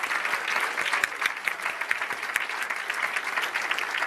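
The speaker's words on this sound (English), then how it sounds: "So one more round of applause for all of the awardees." An audience at an award ceremony claps steadily for the award winners, dense applause that carries on without a break.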